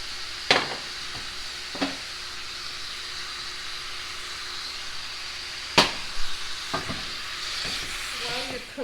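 Italian sausage fries in a pan with a steady, moderate sizzle throughout. Several sharp scraping and clattering hits from stirring break in at intervals, close by, with no talking.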